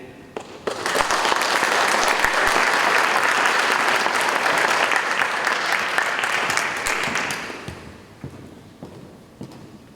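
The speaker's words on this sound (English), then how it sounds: "give Dr. Haywood one more quick round of applause" An audience at a high school State of the District event claps loudly and steadily for several seconds, then the applause thins out and fades.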